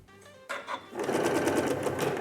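A sewing machine chain pieces quilt blocks: a brief quiet moment, then the motor kicks in and runs fast and steady, a close, rapid needle rattle with no talk over it.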